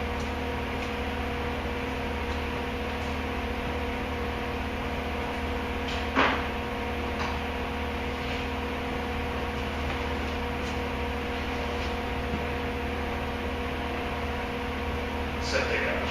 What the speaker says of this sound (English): Hope you guys can hear this with that fan going.